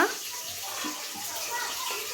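Drumsticks and potatoes lifted out of water nearby, with soft splashing and trickling that continues through the whole moment.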